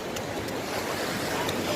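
Ocean waves at Tiruchendur beach in the evening, surging with force: a steady, broad wash of surf roaring without a break, with some wind noise on the microphone and no voices.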